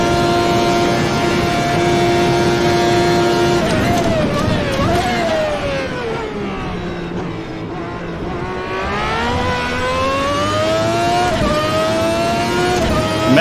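A 1991 Formula One car engine in a racing video game screams loudly and continuously up close, its pitch dropping through a run of rough downshifts before climbing again under acceleration.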